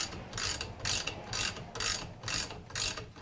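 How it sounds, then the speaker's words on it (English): Spring compressor being loosened on the front strut of a 2002 Chevy Malibu, a rapid ratchet clicking in six even bursts about half a second apart, close and moderately loud, with no talking. "Now I'm loosening the springs."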